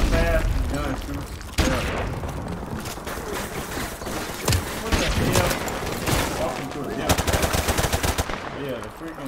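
Rapid automatic gunfire from a gun in Call of Duty Modern Warfare Remastered, loud dense bursts running almost the whole time with someone talking over them.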